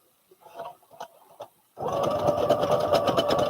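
A sewing machine stitches sleeves with the bobbin thread running low. Faint handling clicks come first, then the motor starts abruptly into a loud, fast, steady whirring clatter of stitches.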